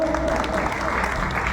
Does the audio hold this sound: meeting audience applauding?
yes